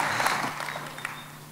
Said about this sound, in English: Give him a roaring applause